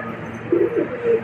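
Domestic pigeons coo softly in a loft, with a couple of short, low, throaty coos over steady background hiss.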